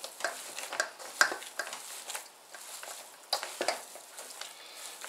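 Beef sausage meat being stirred and mixed by hand for German-style sausage, a soft, wet, irregular squelching and patting close by, with a few sharper slaps, no talking.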